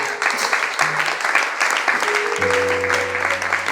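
A congregation applauds in acclaim of Jesus Christ, loud sustained clapping from a crowd, with a held keyboard chord sounding underneath partway through.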